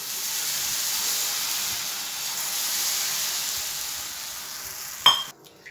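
Wheat flour onion dosa batter sizzling on a hot pan: a steady, bright frying hiss that holds evenly, then a short metallic clink near the end.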